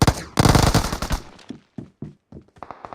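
Uzi fire in the PUBG Lite video game: a loud sustained automatic burst followed by a string of shorter, separated shots and clattering impacts, close and dominant.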